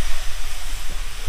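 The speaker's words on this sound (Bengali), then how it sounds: "অল্প একটু নাড়াচাড়া করে কুলটা ভেজে নিতে হবে" Jujube berries fry with salt in a pan, making a loud, dense hissing sizzle over a low rumble that runs continuously through the short stretch.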